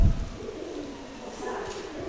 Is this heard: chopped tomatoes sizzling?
no